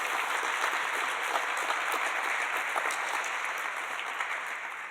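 Steady applause from a conference audience at a tobacco-use keynote, continuous and even, fairly soft and slightly distant, tapering a little at the end.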